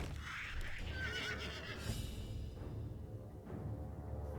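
Video game horse giving a drawn-out neigh and whinny near the start, followed by hoofbeats clopping along beneath a continuous low game rumble.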